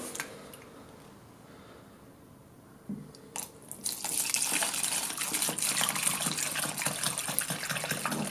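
EGR-valve cleaning product pours from a 5-litre can into a container, starting with a few faint knocks and handling clicks, then swelling into a steady, close liquid gush.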